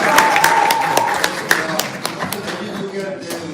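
Scattered claps from a seated audience greet a Liberty Korea Party policy chief at an indoor political forum, sharp separate hand-claps thinning out over a few seconds, with a voice and a sustained tone running underneath.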